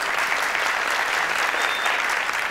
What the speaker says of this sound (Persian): دوستا تشویق کنین خواهران ما را